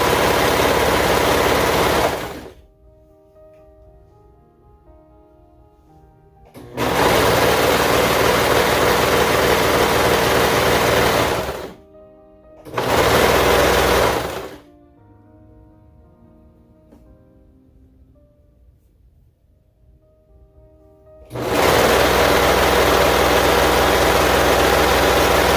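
Sewing machine stitching the long side seam of a T-shirt romper with a quarter-inch seam allowance, running in loud steady bursts separated by quiet pauses: a long run, two short spurts, then another run.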